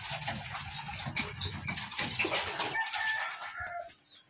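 Inside a Rajshahi giribaj pigeon loft with feeding chicks, close, busy bird calls and clucking chatter overlap continuously before tapering off near the end.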